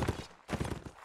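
Galloping horse hooves in a video game match thud in a quick, loud clip-clop rhythm over a busy game mix.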